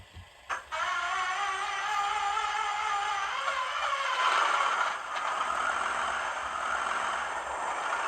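A steady mechanical whir with a high-pitched whine that rises in pitch, starting after a couple of soft clicks and running continuously at moderate volume, from an Accurascale Class 37 model train locomotive fitted with a Hornby DCC sound chip.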